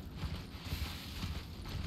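Horse hooves clip-clop steadily in Elden Ring as the rider travels a long path, a rhythmic trotting beat mixed with ambient game noise.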